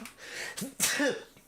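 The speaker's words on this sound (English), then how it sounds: "I gotta sneeze" A single sharp sneeze bursts out, close and fairly loud, with a short breathy intake before it.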